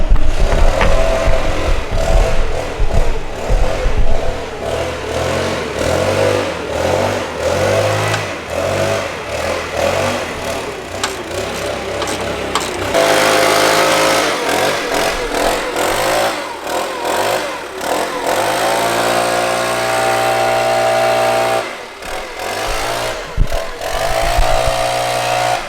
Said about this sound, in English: he's going to turn on his bloody lawnmower now